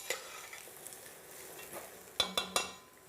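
Onions soften in a soup pot over a faint, steady low sizzle, then a spoon stirs them with three quick, sharp scrapes and knocks against the pot near the end, with no talking.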